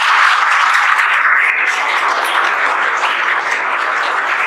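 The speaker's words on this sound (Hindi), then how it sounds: "खड़े हो जाइए, ताली बजाइए हर्ष।" Steady applause from a classroom of students, a dense, even wash of clapping that holds at a loud level throughout without pause.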